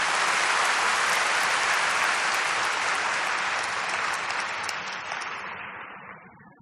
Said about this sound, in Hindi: ठीक है, जोर से तालियां बजाओ अपने लिए।